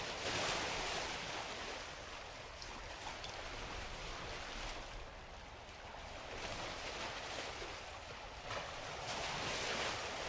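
Ocean waves and surf from the Remember11 visual novel, a steady, wide wash of rolling water with gentle swells and wind-like hiss, continuous and moderately faint with no voices.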